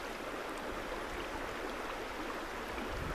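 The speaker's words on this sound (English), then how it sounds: "Just the sound of the river taking you home" A flowing river, a steady even rush of water with no breaks, moderately loud and alone.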